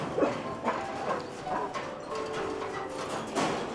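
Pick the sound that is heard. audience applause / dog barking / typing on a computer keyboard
dog barking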